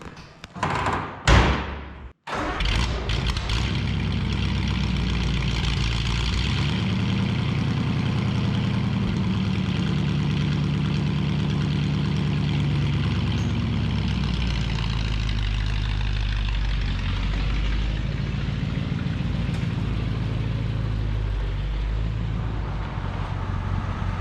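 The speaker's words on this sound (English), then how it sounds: "let's fire this flathead up and get her out of the way." An old flathead car engine is started after a couple of thumps, then settles into a steady, rumbling low idle that runs on evenly for about twenty seconds, close and fairly loud.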